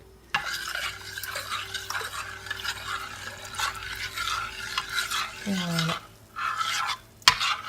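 Melted chocolate being stirred with a cornstarch and milk mixture in a pan for a vegan dessert, a steady close scraping and swirling with light sizzling, a brief clink near the end, and a short spoken word.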